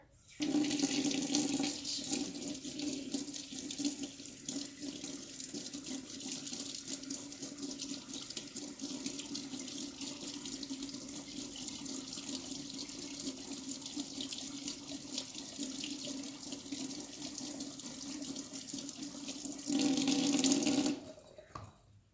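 Cold water runs steadily from a tap over heated Scoot Boots hoof boots, a continuous close hiss and splatter that swells briefly louder at the start and near the end.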